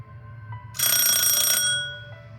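A telephone bell rings once in a quiet room, a bright metallic trill lasting under a second before ringing out into a fading decay, preceded and followed by faint low hum.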